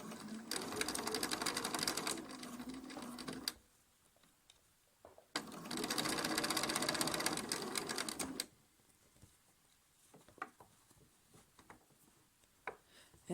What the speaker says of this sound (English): Here I'm using my knee lift to lift up my presser foot.